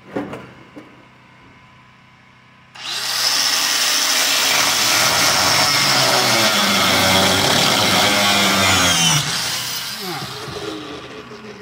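After a quiet start, a power tool spins up abruptly and grinds steadily through car body metal on a 1957 Chevrolet Bel Air four-door being converted to a two-door, loud and continuous before easing off near the end.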